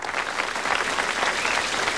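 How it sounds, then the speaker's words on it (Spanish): A studio audience at a game show gives steady applause, a continuous close wash of clapping with no talk over it. "Un aplauso para ella."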